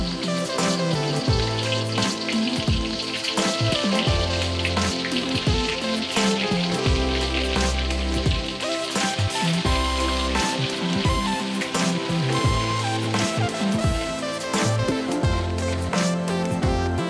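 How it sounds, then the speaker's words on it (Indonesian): Spices sizzle as they are sautéed in oil left over from frying anchovies, a continuous loud close crackle of frying with occasional clatter, and no voices. "Setelah teri matang, tumis bumbu."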